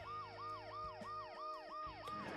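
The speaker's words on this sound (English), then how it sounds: "The noise the ambulance makes will cover the sound of the glass breaking." An ambulance siren in the Dead Synchronicity video game wails in a steady, repeating rising-and-falling cycle, loud and continuous throughout with no voices.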